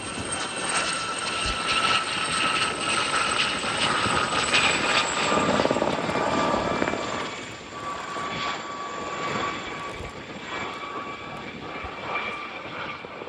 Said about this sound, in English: A very distinctive helicopter it was and is, with its single turbine